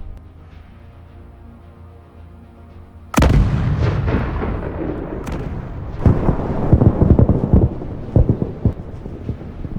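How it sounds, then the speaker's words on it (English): Artillery bombarding enemy forces on a battlefield: a sudden heavy blast opens a sustained stretch of booming fire and rumbling detonations, loud and continuous, with further sharp reports layered in. "Ukrainian artillery continues to bombard the enemy forces that have been halted"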